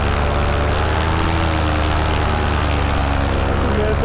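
A brand-new paramotor engine drones steadily through a four-second stretch of powered flight, a loud, close, continuous low hum with harmonic bands while the throttle is varied for break-in, with no voices over it.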